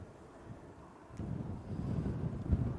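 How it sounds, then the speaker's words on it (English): Wind buffeting a microphone at Manchester Airport, a low rumbling gust that rises and swells after the first second and stays strong to the end. "It's windy again."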